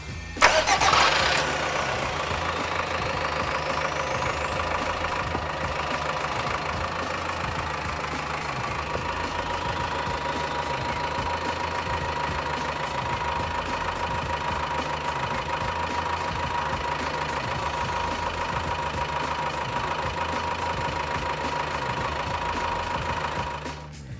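A Subaru horizontally opposed Boxer diesel engine cranks briefly and catches, then settles into a smooth, steady idle that holds evenly for over twenty seconds with a faint high whine and no voices.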